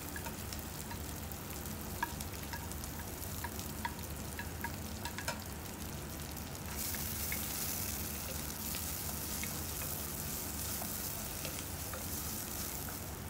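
Chopped onions fry with curry leaves in hot oil for a rajma curry, giving a steady crackling sizzle that grows brighter and denser partway through, with occasional small ticks and no voices.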